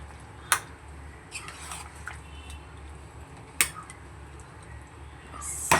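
Chicken and potatoes are stirred in a pan, with a few sharp metallic clinks of the utensil against the pan scattered over a quiet background.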